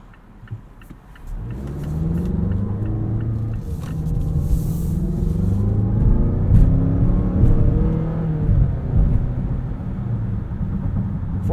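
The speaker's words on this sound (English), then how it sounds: "Four-cylinder makes a pretty good noise too." The four-cylinder engine of a 2022 Mazda CX-9 Signature SUV rises into a steady, throaty acceleration from inside the cabin, a continuous rumble that builds and holds without speech.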